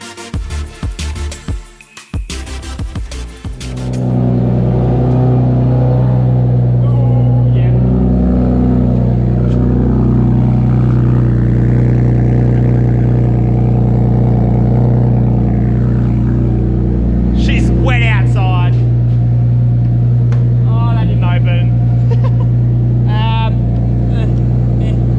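A car engine with cut steering knuckles for extra lock, likely a drift build, runs steadily and loud near at hand while driving, with rising revs and a few sharp squeals later on.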